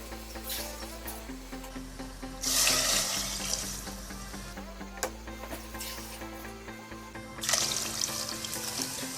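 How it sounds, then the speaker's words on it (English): Water poured in several bursts into a pot of cubed meat, rushing bright and loud near 2.5 and 7.5 seconds over a steady kitchen hum, with quieter trickling in between. "So now we're going to pour in the water."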